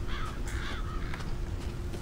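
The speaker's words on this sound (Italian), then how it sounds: "Ci sono dei corvi sopra qualcosa" Crows cawing in the video game Resident Evil 7, several harsh repeated caws over a dull low rumble, moderately loud and without any voices.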